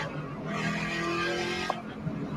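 A stock 2014 Ford Mustang GT on a rainy track, its engine droning steadily at a distance with a brief sharp transient near the end, while faint voices sit underneath.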